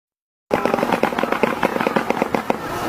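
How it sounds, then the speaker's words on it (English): A shoebill clatters its bill in a fast, loud, rattling burst of dry knocks, like a machine-gun volley, continuing steadily for a few seconds. "Shoebill."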